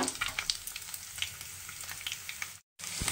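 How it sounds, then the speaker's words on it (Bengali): Morola sea fish fries in hot oil with a soft, continuous crackle and sizzle, dotted with small pops. The sound cuts out for a moment near the end, then returns. "লাল করে ভেজে মাছটা তারপর রান্নাতে আসবে"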